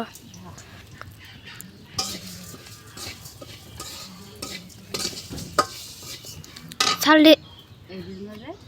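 Sun-dried rice going into hot oil in a pan, a close sizzle with stirring scrapes and clinks of a utensil against the pan, while a person talks over it and a brief high chirp cuts in.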